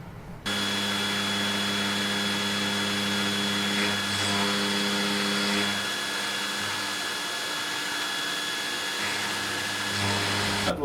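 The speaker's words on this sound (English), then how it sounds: "Next off, surface grinder to clean off the top." Surface grinder grinding the tops of chuck jaws, a loud steady motor hum with tonal whine and gritty grinding noise that shifts slightly as the wheel passes across the steel, running continuously after a brief start.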